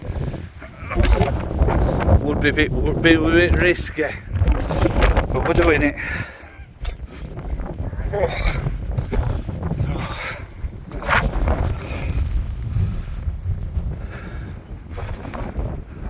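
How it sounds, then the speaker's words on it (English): Steady wind buffets the microphone throughout at Ashover Rock, a low rumbling roar under a person talking nearby. "It's a bit windy."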